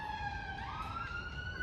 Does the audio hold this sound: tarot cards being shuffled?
no